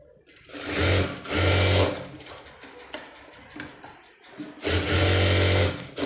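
A sewing machine stitches tucks into a one-piece dress cut from an old saree, running in two short bursts, then a pause with faint handling noises, then another longer run, all close and fairly loud.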